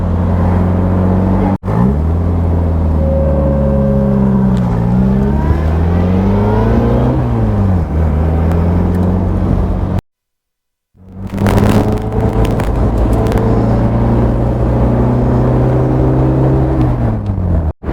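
An Austin Healey Frogeye Sprite drives with a loud, steady engine drone, rising and falling through revs and gear changes, cut by a brief silence before the engine sound resumes; no talk.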